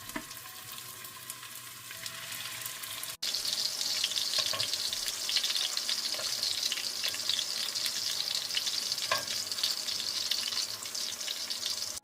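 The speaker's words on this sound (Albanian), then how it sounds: "Në një tigan me vaj të nxehur mirë, vazhdojmë të shtojmë qoftet dhe I fërgojmë për disa minuta derisa të na skuqen" Meatballs frying in well-heated oil in a pan give a steady, loud sizzle that jumps up after a brief quieter stretch and keeps crackling evenly to the end.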